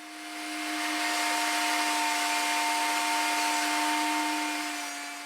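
A planer milling wet hemlock boards hums steadily with a whining motor and a broad rush of cutting noise that swells up, holds, and fades away, with no voices.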